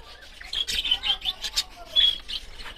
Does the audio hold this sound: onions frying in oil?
no